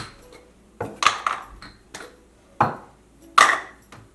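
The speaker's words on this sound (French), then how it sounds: "On met les couvercles de côté parce qu'on fait cuire les yaourts sans les couvercles" Small yogurt-maker pots and their lids are handled on a kitchen counter, producing several close, sharp clinks and clatters in an irregular rhythm, with short pauses between them.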